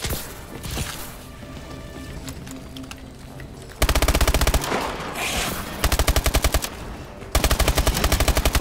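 Rapid automatic gunfire from a futuristic weapon in Call of Duty Advanced Warfare Exo Zombies, heard in loud, fast bursts of evenly spaced shots with brief pauses between them.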